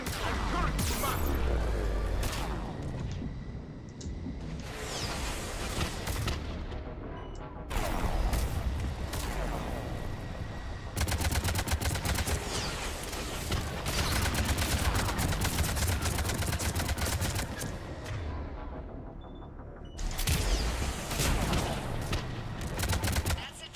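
Missile salvos and gunfire from a combat sequence in the video game Mass Effect, dense crackling bursts and rapid volleys arriving in repeated waves, with short lulls between them and speech mixed in.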